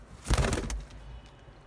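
Pet pigeons outdoors give a short, close coo lasting well under a second, with a faint rustle following and no talking.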